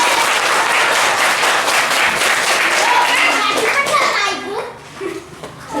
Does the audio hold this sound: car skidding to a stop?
no